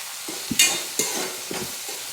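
Onion sautéing in a pan, with a faint sizzle under three or four distinct scraping stirs of a spoon across the pan, each a short rustling sweep.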